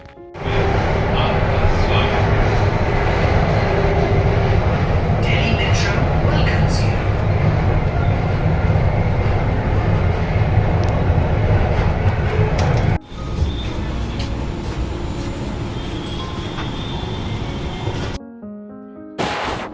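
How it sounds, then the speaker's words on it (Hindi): Inside a moving Delhi Metro Magenta Line train, a loud, steady rumble and hiss of wheels and motors fills the car. The tone shifts abruptly partway through and drops out near the end, with some voices faintly mixed in. "तो बस आ गई मेरी मेट्रो"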